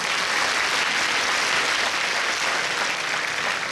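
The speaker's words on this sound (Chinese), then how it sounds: "掌声鼓励一下吧" Sustained applause from the audience at a COSCUP 2016 lightning talk session, a dense, steady wash of clapping lasting the whole stretch with no voices on top.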